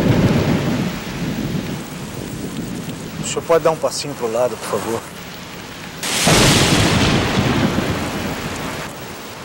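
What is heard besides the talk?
rain and thunderstorm sound effect in Samsung ad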